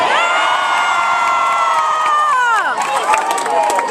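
A large fanfest crowd at a San Francisco Giants fan event shouts an answer in unison, a loud sustained mass of voices with a rising and falling cheer that breaks into scattered shouts near the end.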